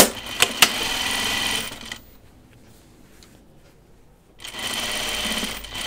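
A sewing machine stitches busy-patterned fabric in rapid, steady mechanical runs with a loud up-and-down clatter. It runs close and loud, stops for a couple of seconds of near silence, then starts again, with no talk over it.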